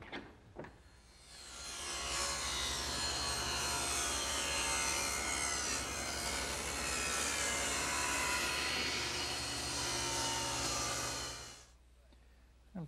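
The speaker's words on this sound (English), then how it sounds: "Now, over here, for this corner, I can take that off on my table saw." A table saw rips through a wooden corner of a chest-on-chest piece, a loud, sustained whining cut of about ten seconds that rises after a short start and stops abruptly.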